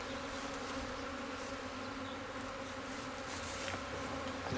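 Honeybees drone in a steady, continuous hum at a hive during a hands-on beekeeping session, close and even throughout with no talk over it.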